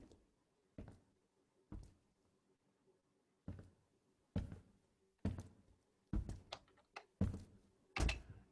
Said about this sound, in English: Here's the normal footstep for Julian walking by